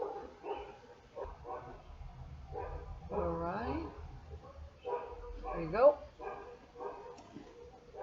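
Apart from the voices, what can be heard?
dog barking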